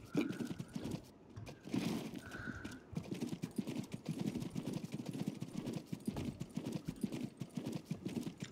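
Horse hooves clip-clop in the Six Guns western video game as the horse moves through a town, a rapid, steady trotting rhythm with a brief whinny early on.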